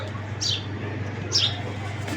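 Pigeons at a pigeon sale, including a pair of red birds, give two short high chirps about a second apart over a steady low hum and background noise.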